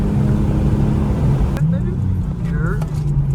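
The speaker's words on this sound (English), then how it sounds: "Brake a little, wait for a downshift." Nissan G37 fitted with a cold air intake, its engine droning steadily and loud, then a sharp blip around the downshift as the revs briefly rise and settle back into a lower hum.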